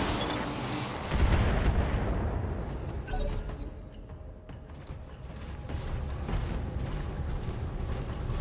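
Mech weapons in the BattleTech video game fire on a target, giving heavy booming blasts and rumbling impacts mixed with metallic mechanical clanks, sustained and loud for several seconds with no talking.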